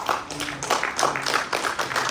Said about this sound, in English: So can we just clap hands for ourselves?